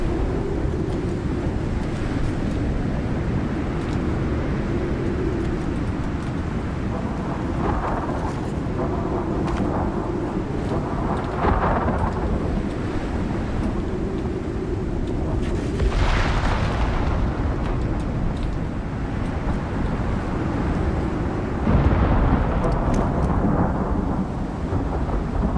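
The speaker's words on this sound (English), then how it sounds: "Man, the storm is loud." Loud, continuous thunderstorm in the survival game Icarus, with heavy rain hissing throughout and deep rolling thunder swelling in several long rumbles; no voices.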